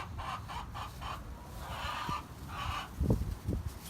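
Several chickens cluck nearby in short repeated bursts, with a few louder squawks toward the end and no talking.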